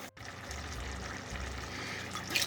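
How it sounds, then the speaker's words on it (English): A little water poured into a pan of Bengali mustard fish curry makes a steady, soft trickling stream that runs for a couple of seconds, up close with no voices. "We're going to add a little bit of water"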